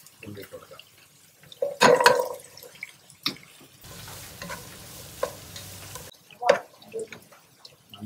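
Garlic, ginger and onion fry in a pan, giving a soft sizzle with scraping and clattering from stirring. A louder burst of hissing comes early, and a voice speaks at times over the cooking.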